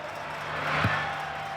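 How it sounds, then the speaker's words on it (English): A big stadium crowd at Shark Park roars during an NRL rugby league match between the Cronulla-Sutherland Sharks and South Sydney Rabbitohs, a broad distant wash of noise that swells briefly in the middle. "Now the crowd gets going."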